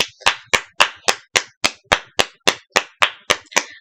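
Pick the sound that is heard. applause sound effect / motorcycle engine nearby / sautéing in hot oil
applause sound effect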